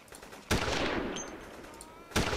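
M16 rifle shots in the Vietnam War game Tunnel Rats, two sharp loud cracks about a second and a half apart, each trailing off into a decaying echo.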